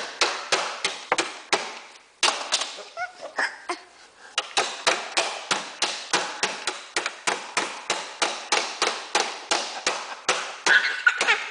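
Rapid, steady hammer blows, close and loud, in a regular rhythm broken by one short pause before resuming.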